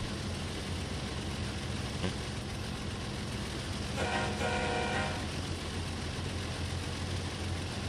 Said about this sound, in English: Uh-oh, I think I hear the horn.